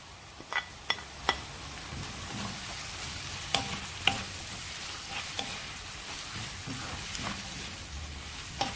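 Onion, chopped garlic, chopped ginger and three green chillies sauté in a pan for Chicken Mughlai, a steady sizzle broken by sharp clinks of a spoon stirring against the pan, with no voices.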